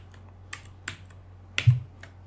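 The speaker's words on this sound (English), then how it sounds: "Now I type drink" Sparse keystrokes on a computer keyboard in a quiet room, a handful of separate taps spread over a couple of seconds, with the last one slightly louder, over a low steady hum.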